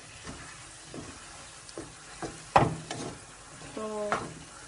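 Suji halwa roasting in a pan while it is stirred gives a soft sizzle broken by repeated scraping strokes and one sharp clink, with a short burst of voice near the end.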